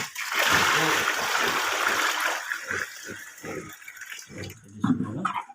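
Water is poured into feed for fattening bull cattle, making a loud, close, continuous splashing gush that tapers off, while people talk nearby.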